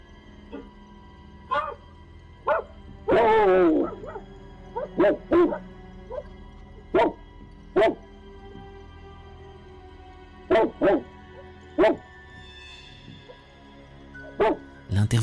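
A dog barking in short separate bursts as it gives chase, about a dozen barks spaced irregularly and fairly close, with a longer whining howl early on.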